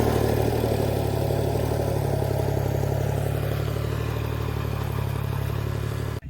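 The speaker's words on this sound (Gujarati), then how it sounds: "અત્યારે હું ટ્રેક્ટર ચલાવતો હતો, પણ ટ્રેક્ટર આ કેવું કે નાનું ટ્રેક્ટર છે" A small tractor's engine runs steadily while being driven through a field, a continuous mid-pitched chugging clatter, close and loud, cutting off abruptly at the end.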